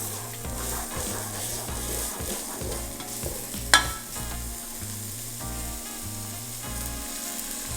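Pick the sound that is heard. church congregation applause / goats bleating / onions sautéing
onions sautéing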